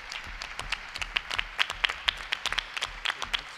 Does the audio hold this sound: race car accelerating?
no